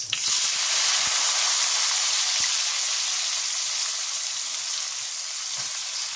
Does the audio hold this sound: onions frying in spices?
yes